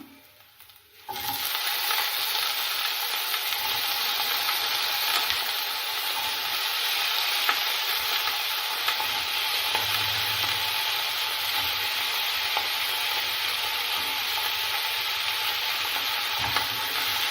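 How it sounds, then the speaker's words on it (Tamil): Cut potatoes sauté with softened onion in a pan for a crispy Tamil potato fry. A loud, even sizzle starts after a brief quiet moment and continues unbroken with faint stirring, and no one speaks. "உருளைக்கிழங்கையும் வதக்கி விட்டுக்கலாம்."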